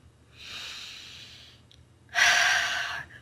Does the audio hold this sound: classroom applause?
no